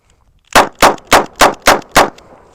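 Six sharp, loud revolver shots from a Kimber K6, fired in an evenly spaced string about a third of a second apart at close range, with no timer beep audible before them.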